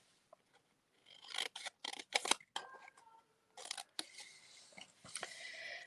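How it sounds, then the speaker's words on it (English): Scissors snip around stamped paper close to the microphone in short, rasping bursts, then longer scraping cuts after a few quiet gaps. "Good thing I'm fussy cutting."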